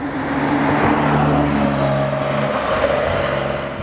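A twin-turbo Cadillac ATS-V with a 6-speed manual driving through canyons, a steady loud engine drone heard from inside the car with a rising tone partway through, no talking.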